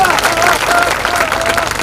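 A crowd at a political rally breaks into loud, dense applause. Many hands clap at once in a steady roar that lasts the whole moment, with some crowd noise mixed in.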